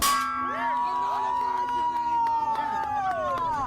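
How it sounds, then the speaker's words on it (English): A bell rings at Burning Man with one bright clang, and its long metallic tone hangs and slowly fades across the clip while a crowd murmurs faintly behind it. "Okay, let's ring the bell."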